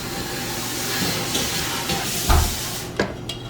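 Wet, soft squishing and handling as marinade is worked into cleaned snapper in a bowl, under a broad steady hiss with a few dull knocks toward the end.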